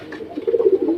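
Pigeons coo close by in soft, low, warbling bursts, with a short throaty phrase rising and falling.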